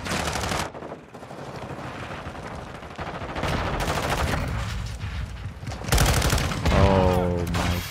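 Sustained automatic fire from an M13C rifle in Modern Warfare 2, dense fast-firing bursts running almost continuously with brief gaps, loud and close, with a player talking over the end.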